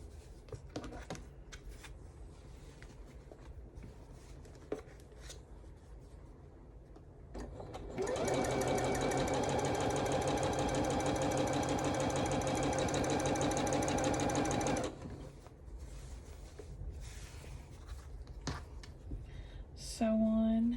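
A sewing machine stitching quilt table runner pieces together: after quiet fabric handling, a steady, fast mechanical whir runs for about seven seconds, then stops, followed by more light rustling.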